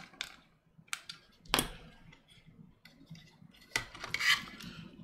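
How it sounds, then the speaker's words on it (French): Parts of an HG Asshimar Gundam plastic model kit being screwed together: a few sharp close clicks and rasping scrapes of small plastic pieces and a screw, separated by quiet pauses. "Et là, on peut le visser."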